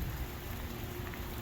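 Rain falls steadily outdoors on a windy hillside near a parked van, a dense, even hiss with no distinct drops and a low rumble beneath it.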